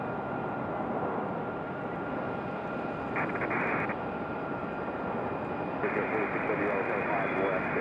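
A JetBlue jet airliner taxis toward the runway at Raleigh-Durham International Airport, its engines a steady distant whine and rumble with a faint higher tone, beneath quiet talking nearby.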